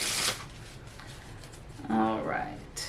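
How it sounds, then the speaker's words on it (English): A deck of playing cards is shuffled in a quick riffle burst at the start, followed by a brief voice speaking close by. "All right, one more shuffle."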